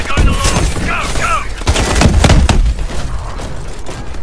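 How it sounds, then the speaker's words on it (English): Swarm missiles launch in Call of Duty: Advanced Warfare amid dense, continuous game combat, with a burst of rapid whooshing blasts and booms layered over rumbling explosions and gunfire, loud and close, with brief in-game radio chatter. "Swarm missiles ready. They're going to launch!"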